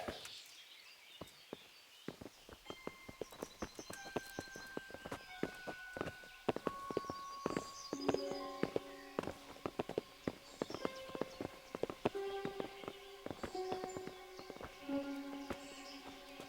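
Horse hooves clip-clop at a walking pace in the video game Kingdom Come: Deliverance, steady and fairly close, with music playing throughout.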